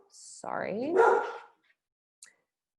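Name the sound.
dogs barking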